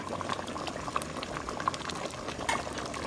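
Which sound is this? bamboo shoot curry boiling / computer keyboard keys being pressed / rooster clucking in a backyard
bamboo shoot curry boiling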